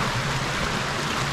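Small waterfall cascading over mossy rocks at Sailors Falls, Victoria, a steady broadband rush of flowing water filling the short clip with no voices.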